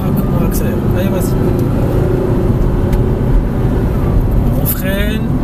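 A car picks up speed during a driving lesson on a road. A steady engine and road roar runs throughout, while an instructor talks over it.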